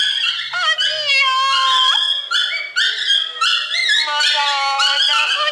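A dog cries and whimpers in long, high, wavering whines that slide up and down in pitch, close and fairly loud, running almost without a break.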